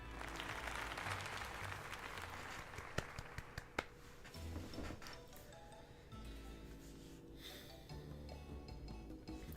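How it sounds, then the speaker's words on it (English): Applause in the Pokémon Legends: Z-A video game, a quiet, steady patter of crowd clapping after a tournament, with a few sharp clicks and thumps scattered through it and no voices. "let us give another heartfelt round of applause to DB"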